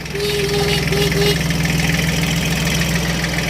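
A close, loud tractor engine idles with a steady low rumble and rhythmic knock, while a faint tonal whine sounds briefly near the start.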